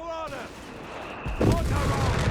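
Machine gun fire from a German MG 42 in the Company of Heroes 3 strategy game, sharp clustered bursts rising loud near the end amid battlefield noise.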